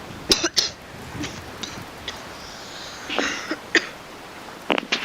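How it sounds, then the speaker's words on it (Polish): Several sharp coughs come in short bursts, scattered irregularly with quiet gaps between them, close to the listener and with no speech. "Sorry, że tak kaszle, ale się przeziębiłem."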